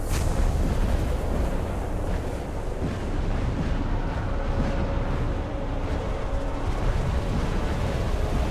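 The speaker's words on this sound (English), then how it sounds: "Oh, that's a pretty cool explosion." A ship being shot down from the surface in The Solus Project, a broad rumbling explosion roar that fills the whole stretch, dense and sustained with low booming weight and no speech.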